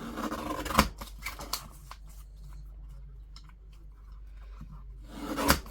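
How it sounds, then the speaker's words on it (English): Scissors cutting 6x4 photo prints, a few crisp snips near the start and a sharp cut at the end, with quieter paper rustling between, close and fairly faint. "Trim my photos down a bit."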